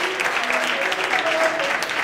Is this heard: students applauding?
yes